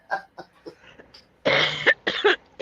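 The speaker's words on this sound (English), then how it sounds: "How long you been had your cough" A person with a cough of about two days: a few short, sharp coughs, then louder, harsher coughing bursts close by.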